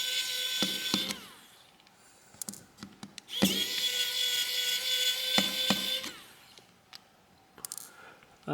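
A small driver backs screws out of a Motorola Edge 2024 (XT2405) phone during a teardown, giving a close, thin whirring whine in several bursts broken by sharp little clicks and ratchety ticks, with no one talking.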